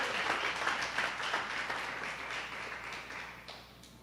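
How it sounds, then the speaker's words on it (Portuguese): A church congregation applauds together, dense clapping filling the room, loudest at the start and slowly fading toward the end. "aplauda ao Senhor com o seu melhor."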